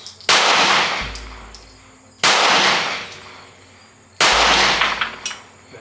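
Three loud, sharp pistol shots from a Springfield Armory Hellcat Pro, spaced about two seconds apart, each with a ringing metallic decay outdoors.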